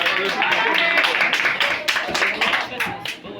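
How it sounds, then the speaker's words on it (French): A congregation at a wedding claps together in a dense, steady patter of many hands, with voices mixed in underneath. "Applaudissez Dieu pour vous."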